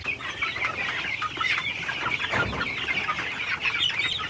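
Five-week-old Dominant pullets in a backyard flock in Cebu cluck and chatter continuously, many birds overlapping in a busy, close chorus with occasional louder calls and no voices.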